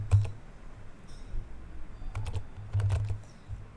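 A computer keyboard clatters with light, irregular keystrokes, quiet and close, in short bursts against a low steady hum, with no one speaking.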